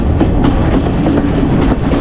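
A passenger train rolls steadily along the tracks in Sri Lanka near the Ella area, with loud, continuous rumbling and rhythmic clickety-clack of the wheels heard from inside the carriage, no voices present.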